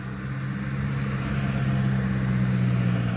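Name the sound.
cars passing on the road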